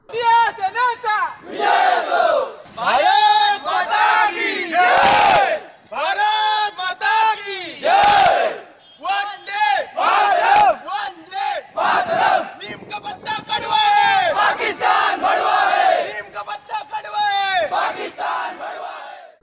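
Youth activists at a motorcycle rally in Devgad, Sindhudurg shout rhythmic chants and cheers in loud unison, with bursts of crowd voices repeating again and again and brief gaps between them.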